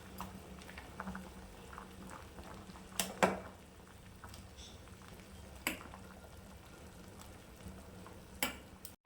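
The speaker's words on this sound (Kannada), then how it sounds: "ಈಗ ಸ್ವಲ್ಪ ಇದಕ್ಕೆ ಉಪ್ಪು ಹಾಕಿ ಬೇಯಕ್ಕೆ ಬಿಟ್ಬಿಡ್ತೀನಿ." Greens simmering in salted water in a pot for a Karnataka bassaru, a faint steady bubbling bed broken by a few sharp clinks and stirring knocks.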